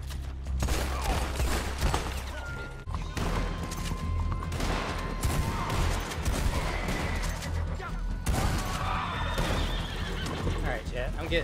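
In a video game set in Saint Denis, a horse whinnies and its hooves clip-clop amid dense, continuous game noise. Bursts of gunfire and a voice talking run throughout.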